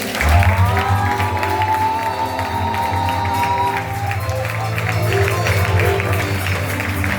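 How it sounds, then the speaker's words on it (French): At a New Year's Eve church service, a congregation applauds and cheers steadily over sustained music, a dense wash of clapping with voices mixed in throughout. "Acclamons le Seigneur."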